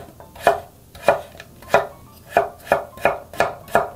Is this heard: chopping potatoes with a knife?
yes